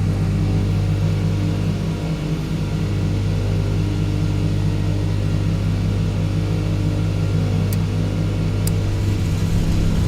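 Douglas DC-3 piston engines running in Microsoft Flight Simulator 2020, a loud, steady droning rumble with strong low harmonics and a slight shift in pitch partway through, continuous with no talk.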